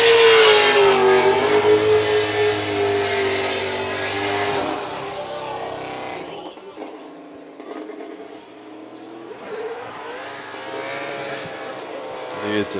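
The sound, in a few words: race car engine revving at Fuji Speedway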